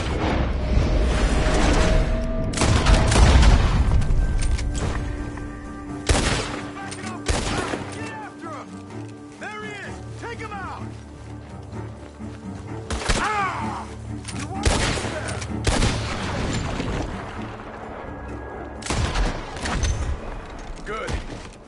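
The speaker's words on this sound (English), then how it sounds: "The gunshots are coming from that barn!" Loud, repeated gunfire from a barn in Red Dead Redemption II, with sharp shots and volleys in irregular bursts over steady background noise and game characters' voices.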